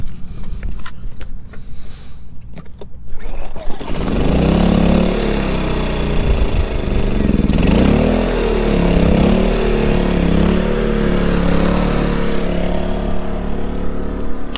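Small four-year-old portable generator starting after its gummed-up carburetor was cleaned, pull-start rattles giving way to a loud, steady, close-up engine running at a fairly even idle.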